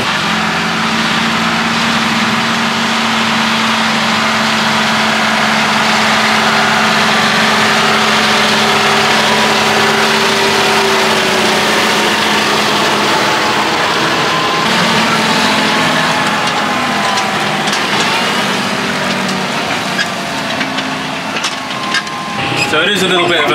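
A John Deere tractor engine labours steadily while pulling through muddy land, a loud continuous drone that rises and falls under strain for the whole stretch, with no pauses.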